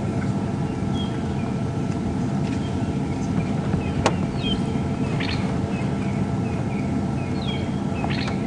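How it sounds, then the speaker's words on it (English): Wild birds call in the bush on a morning game drive at Djuma Game Reserve, several short chirps and whistles scattered over a steady low vehicle rumble. "There's lots of birds calling around us, but Sharon"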